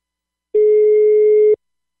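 A telephone call tone sounds once as a single steady electronic beep of about one second, clean and close, with silence before and after.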